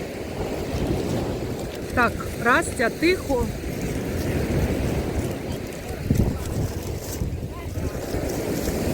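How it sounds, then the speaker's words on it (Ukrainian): Strong wind off the sea in Odesa buffets the microphone in a constant roaring rush, with a person speaking briefly and a few high squeaks partway through. "Вітер дуже сильний, все сильніше і сильніше."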